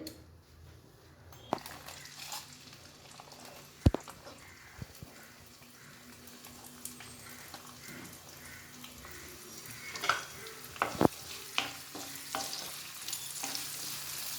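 Cinnamon and cloves frying in a heating pan for baby corn gravy give a low, steady crackle with scattered clinks and stirring knocks, close and fairly quiet, with no voices.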